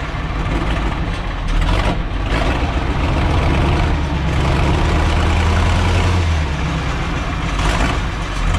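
A John Deere 5020 tractor fitted with a Cat 3150 V8 diesel runs at a steady loud idle, a deep low rumble with a continuous throbbing drone and no talk.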